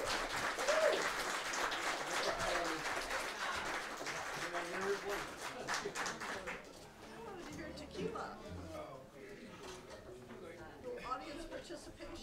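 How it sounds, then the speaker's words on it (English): Audience applause at a Hawaii Five-O tribute band show at a bar, dense clapping that fades after several seconds into scattered claps, with someone talking over it. "So give them another round of applause."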